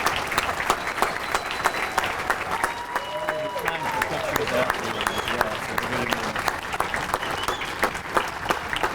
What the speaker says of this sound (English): How about a big round of applause for all of our wrestlers?